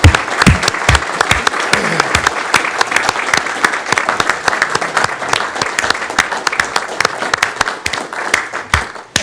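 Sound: audience applause for youth citizen board members

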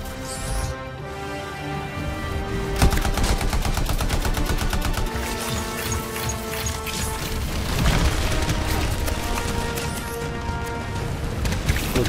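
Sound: heavy gunfire in the video game Anthem

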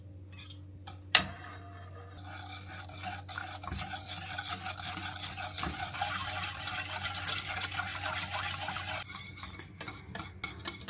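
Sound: whisking flour, starch and egg yolk

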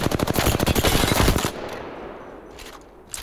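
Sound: R3 gun firing in Apex Legends video game

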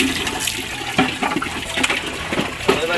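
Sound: dog shaking water off its fur after a bath

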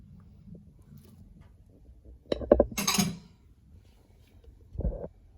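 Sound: stirring stuffed zucchini filling with beans and peas

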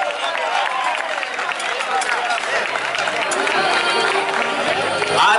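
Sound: crowd applauding at a popular rice cooking event

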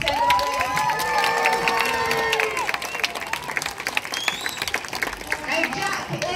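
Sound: audience cheering for a sea lion at a safari park

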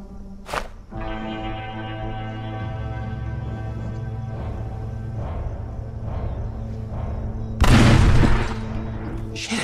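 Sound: exploding barrels being shot in video game Arizona Sunshine

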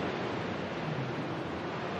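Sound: ocean waves at sea

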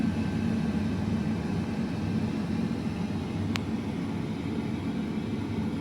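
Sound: Philips XL HD9257/80 airfryer fan blowing air

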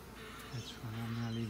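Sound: bees buzzing at hive

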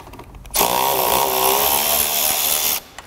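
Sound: power tool removing 10 millimeter fastener on Mini Cooper

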